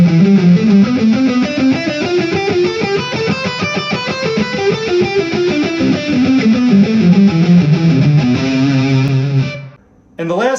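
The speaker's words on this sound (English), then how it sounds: "And to play it fast again, it sounds like this." Electric guitar with a distorted, effects-laden tone runs a scale pattern at speed, a steady stream of quick notes played alone and loud, ending with a brief pause and a final note.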